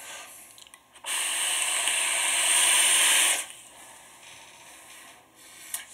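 Airflow hisses through a Washington RDA atomizer on a squonk mod, a steady, loud, breathy rush that lasts about two seconds and then drops back to quiet room tone.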